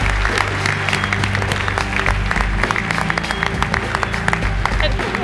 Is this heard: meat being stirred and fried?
no